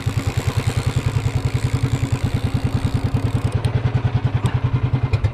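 A fishing boat's engine running while trolling, a loud, close, steady rhythmic chugging thump with clattering mechanical tone, alone without talk.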